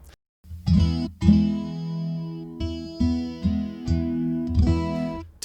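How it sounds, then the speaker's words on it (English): Acoustic guitar played through an amplifier with a chorus effect, strummed chords ringing with a wide, wavering doubled shimmer, several strums over a few seconds, close and without speech. "The chorus control allows you to mimic the sound of multiple guitars."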